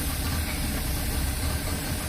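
A Yamaha 4 HP outboard engine runs steadily on a tourist boat, a continuous low droning hum close by that holds an even level throughout before cutting off at the very end.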